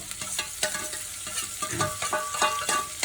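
Macaroni sizzles in oil in a pan, a dense, steady crackle with quick popping accents throughout. Stirring scrapes mix in, and no voices are heard.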